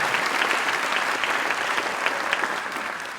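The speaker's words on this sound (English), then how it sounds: "let's give a round of applause to everyone who donated and helped coach all our individuals this year" Audience applause at a Journey Of Hope welcome event, dense steady clapping throughout, loud and continuous.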